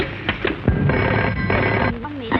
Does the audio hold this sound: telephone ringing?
yes